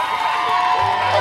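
A crowd at an outdoor candle lighting ceremony at a villa breaks into loud cheering and whoops over an amplified voice, a brief dense burst of excited noise.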